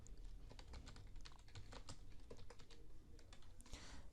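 Quiet, steady tapping on a computer keyboard as bank and branch details are entered into an online NGO registration form. Dense, irregular clicks with no voices.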